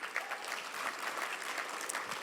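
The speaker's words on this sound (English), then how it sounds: "Let's give them a round of applause." A room full of people at a list-building talk gives a round of applause, with dense, even clapping throughout, moderately distant and without speech.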